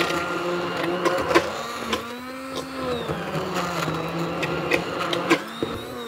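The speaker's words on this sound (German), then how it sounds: "Und jetzt pürieren wir unser Gemüse und fangen an, die Soße hier aufzubauen." Vegetables for a venison goulash sauce being pureed with an electric blender, giving a steady whirring motor hum with slight pitch shifts and occasional knocks as the blade works through the mixture.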